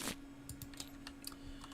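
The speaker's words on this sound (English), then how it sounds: "Give that a quick shuffle." Arkham Horror 2nd Edition game cards being given a quick shuffle by hand, heard as a brief flurry of soft, crisp riffling clicks and flicks close by, faint and without talk.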